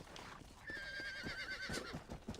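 A horse in the Red Dead Redemption video game whinnies loudly in a long, wavering call, with clip-clop hoofbeats and game ambience around it.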